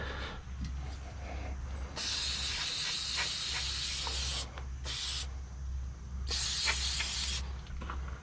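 An aerosol can sprays rubberized coating onto a pitted, leaking fuel tank in three steady hissing bursts, the longest around two and a half seconds, over a low background hum.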